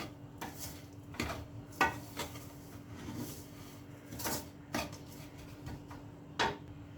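A spoon scrapes and clinks in a pan as sugar is stirred into a semolina ladoo mixture, with irregular soft knocks and scrapes over a low steady kitchen hum.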